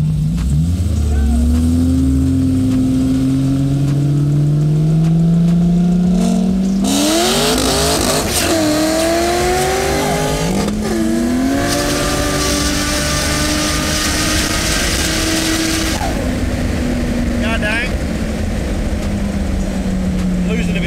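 Holden VF with LSA supercharged V8 launching against a McLaren 720S, engine roaring up through gears with tire squeal and wheelspin noise, loud wind rush mid-run, and people talking over the racket.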